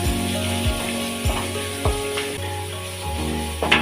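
Sliced large onions hit hot oil in a pan for a sardine curry, giving a steady loud sizzling hiss with a few soft knocks, over sustained humming tones.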